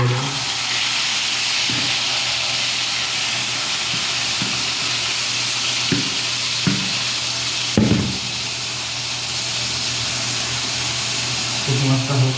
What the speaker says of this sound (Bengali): পুঁটি মাছটা হালকা করে একটু ভেজে নেব।